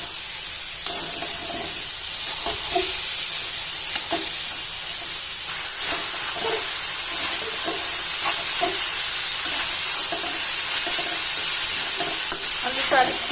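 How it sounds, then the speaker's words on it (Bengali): Fried potatoes are stirred with spices in a hot pan for an egg and potato dish, a continuous close sizzle marked by regular scraping strokes. "এখন আলুটা মশলার সাথে ভালোভাবে কষিয়ে নেব"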